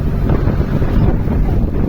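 Strong sea waves at a beach resort in Bicol, Philippines, roar as a steady, loud wash, heavily buffeted by wind noise on the microphone.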